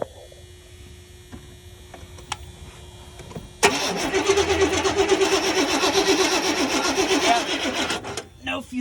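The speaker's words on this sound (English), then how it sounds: "You want to go ahead and turn it over one more time for me?" A 1987 Chevy Silverado that sat for six years, with no fuel, has its starter cranking the engine over in a steady rhythmic churn for several seconds without catching, close by after a quiet stretch.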